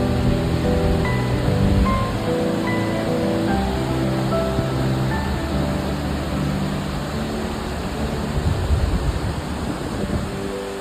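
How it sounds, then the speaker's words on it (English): Steady rushing water roars continuously, a broad even wash of sound from nearby Mackay Falls on the Milford Track, New Zealand, with no voices. "this is the second waterfall, which is quite stunning"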